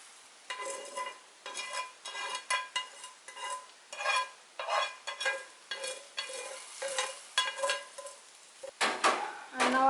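A spoon stirs roasted vermicelli and dry fruits through milk in a pot for sheer khurma, a steady run of close scraping and clinking strokes with soft liquid swishing and no talk.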